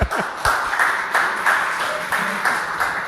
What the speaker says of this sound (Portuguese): Uma salva de palmas, né?